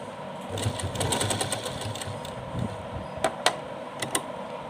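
A sewing machine stitches along a folded edge of cloth for a small handmade dress, running in a steady mechanical whir with a few sharp clicks near the end.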